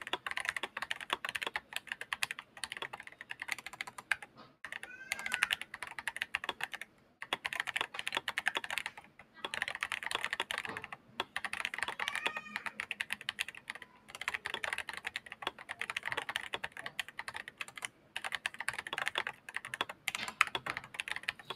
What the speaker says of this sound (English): comparative sound test would be here with the Kara MT3 profile and Neapolitan switches